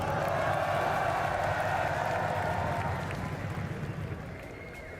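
A large crowd at an esports watch party for a grand final cheers and applauds steadily, a loud, continuous roar of clapping that fades slightly toward the end.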